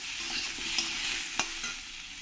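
Potato pieces frying in oil with salt and turmeric, a steady close sizzle with a couple of soft stirring clicks, no voices.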